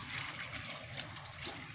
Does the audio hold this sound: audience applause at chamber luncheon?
no